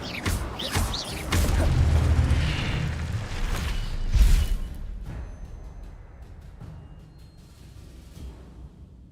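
Incendio fire spell blasts in the video game Hogwarts Legacy: a run of loud, booming bursts and whooshes packed into the first few seconds, then a final heavy blast that fades into a quiet tail.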